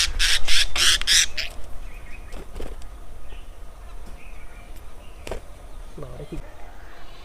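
Budgerigars squawk while being caught by hand for a cage, with a loud burst of harsh, rapid calls at the start, then quieter scattered chirps and rustling.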